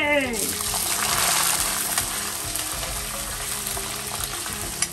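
Green chillies dropped into hot oil with peanuts and cashews for mango pulihora, a loud close crackling fry with bursts of spattering and stirring.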